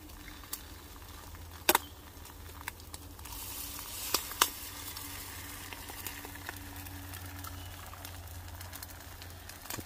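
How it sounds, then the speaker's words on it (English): Eggs sizzling in a frying pan while camping in the rain, a steady moderate crackle and hiss with a few sharp pops and clinks, close by and without talk. "Oh, that's a frying up quick."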